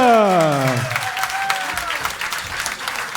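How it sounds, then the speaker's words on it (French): Audience applause for a saxophone soloist at a June wind band concert, starting just as the last sustained band chord fades, then settling into steady, dense clapping from a large crowd. "Avec Leia au saxophone, on l'applaudit bien fort, soliste"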